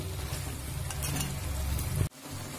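Potatoes for a Bengali coriander alur dom sauté in hot oil in a pan, giving a steady close sizzle that runs loud for about two seconds and then drops away abruptly, with no voices.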